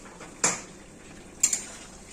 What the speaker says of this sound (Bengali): এখন ঢাকনাটা তুলে দেখাচ্ছি।